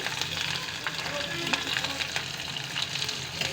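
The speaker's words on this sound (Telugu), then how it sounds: "ఆనియన్స్ కూడా వేస్తున్నాను" Onions fry in hot oil for a puri curry, giving a steady, close crackle and sizzle. Occasional stirring scrapes break into it, and no one speaks.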